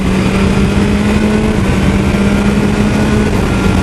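A car merging onto the interstate, its engine droning steadily and loudly with a constant mid-low hum and broad road and wind rush throughout, no talking.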